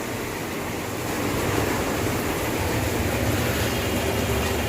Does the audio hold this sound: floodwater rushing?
yes